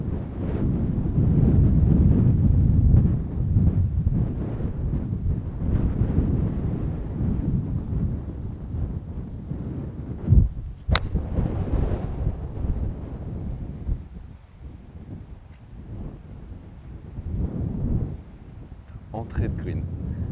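Strong headwind gusting across the first hole of the Ilbarritz golf course in a storm, a loud steady roar buffeting the microphone throughout, with a sharp click near the middle and brief speech.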